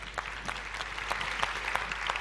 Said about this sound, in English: If we could have a huge round of applause for Stephan